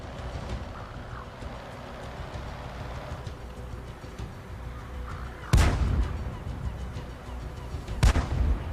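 Heavy artillery fire in the tank battle game World of Tanks: two sharp, booming shots several seconds apart cut through a steady rumbling battle ambience, with no talking in between.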